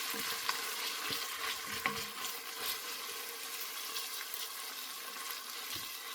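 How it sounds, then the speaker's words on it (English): Minced garlic sizzles and crackles in a hot pan for a sausage pasta sauce while being stirred, a soft continuous frying hiss with occasional scrapes of the utensil, fairly quiet and with no voices. "Mix in our garlic."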